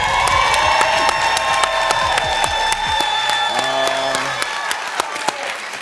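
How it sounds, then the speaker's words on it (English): Studio audience on a daytime talk show applauds and cheers loudly and continuously, with whoops rising over a steady wash of clapping and a tonal backing beneath. "Clap, baby, clap."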